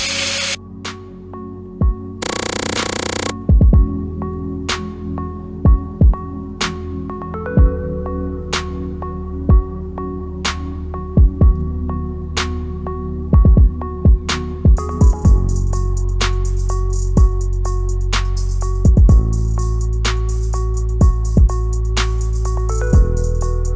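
A borrowed mini lathe runs with a steady electric whine and hum, broken by repeated sharp clicks and knocks, growing louder and hissier in the second half.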